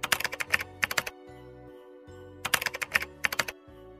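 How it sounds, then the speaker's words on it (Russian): Computer keyboard typing in two quick bursts of rapid clacking keystrokes with a pause between, close and crisp over a faint low background tone. "Для большей красоты я вам рекомендую вставить звуки клавиатуры."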